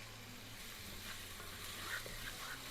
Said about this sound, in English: stir them up a little bit. Get that percolating, and you're going to basically cook it until the onions caramelize.